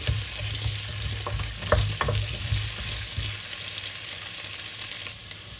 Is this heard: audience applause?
no